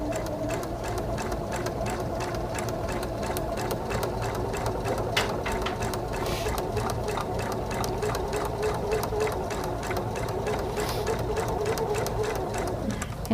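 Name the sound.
sewing machine stitching a paper pieced quilt block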